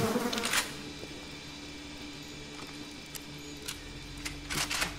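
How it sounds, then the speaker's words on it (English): Bees buzz in the Bioshock video game, a steady droning hum with a couple of louder swelling buzzes at the start and end, with no speech. "back to bees"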